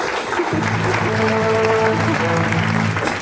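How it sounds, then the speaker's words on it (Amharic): Audience applause at an Amharic-language talk-show interview, a dense, steady clatter of many hands clapping for about three seconds, with a sustained tonal hum of music or voice running underneath. "አንድ አጨብጭቡላት በእናታችሁ"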